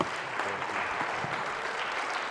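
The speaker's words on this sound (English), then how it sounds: "You can clap for that." A church congregation claps together in a steady wash of applause, moderately loud and continuous for a couple of seconds, with no talking over it.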